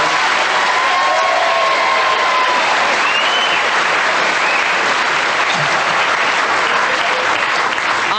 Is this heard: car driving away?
no